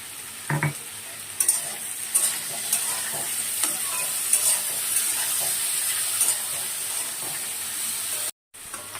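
Potatoes frying in a pan with turmeric and salt, a steady close sizzle and hiss broken by sharp scraping knocks from stirring, briefly cutting out near the end.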